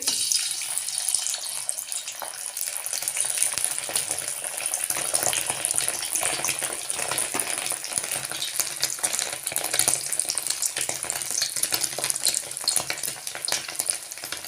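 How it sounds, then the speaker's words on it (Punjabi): Boiled potatoes deep fry in hot oil in a kadai, making a dense, continuous crackling sizzle that holds at an even loudness throughout, with no speech over it. "ਮੈਂ ਡੀਪ ਫਰਾਈ ਕਰ ਰਹੀ ਹਾਂ ਤੁਸੀਂ ਇਸ ਨੂੰ ਸ਼ੈਲੋ ਫਰਾਈ ਵੀ ਕਰ ਸਕਦੇ ਹੋ ਆਲੂ ਆਪਾਂ ਤੇਲ ਵਿੱਚ ਪਾਤੇ ਨੇ"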